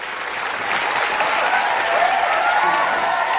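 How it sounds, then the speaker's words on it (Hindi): Studio audience applause for contestants on a comedy show, a loud, sustained wash of clapping that swells slightly and holds steady with no voices over it. "जोरदार तालियां सारे कंटेस्टेंट्स के लिए"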